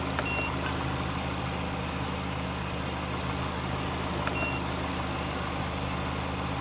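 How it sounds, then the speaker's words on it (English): A car engine idles steadily after being started again, a constant low mechanical hum with faint reversing-type beeps twice in the background, heard alone at moderate distance. "I'm going to hit the engine start again."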